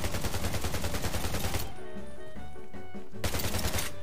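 Bursts of rapid automatic gunfire in the Garena Undawn zombie and robot survival mobile game, loud dense volleys that break off briefly mid-clip before resuming.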